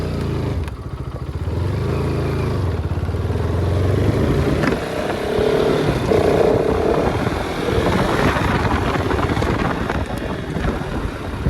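A KTM Duke 250 motorcycle engine droning while riding and struggling to reach top speed, its steady hum mixed with heavy wind rush against the microphone and no talk.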